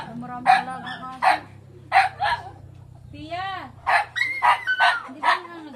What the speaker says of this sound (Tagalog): Marami talagang aso.